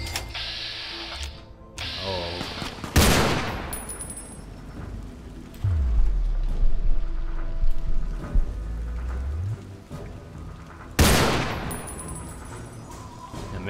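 Gunfire from the video game Fallout 3, played in Tale of Two Wastelands: a few loud, sharp shots ring out alone, spaced apart amid low game ambience and a deep rumbling hum.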